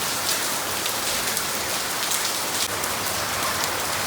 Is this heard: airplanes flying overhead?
no